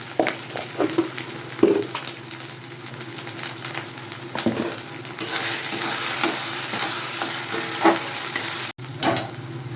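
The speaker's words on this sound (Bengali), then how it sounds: "একটু ভেজে নেব। হলুদটা দিয়ে দিচ্ছি।" A fish head fries with turmeric in a pan for a Bengali muri ghonto, a close crackling sizzle punctuated by loud knocks and scrapes of stirring, with a brief dropout near the end.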